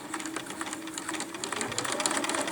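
A sewing machine stitches fabric with a back stitch, a fast, faint mechanical chatter of needle strokes running steadily and close.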